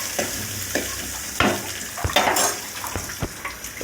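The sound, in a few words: onions sautéing with mustard seeds and curry leaves in pan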